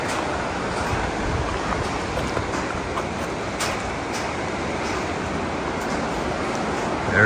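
The Colorado River rushes beneath a footbridge in the Grand Canyon, a steady, full roar of flowing water, broad and unbroken, with no voices over it.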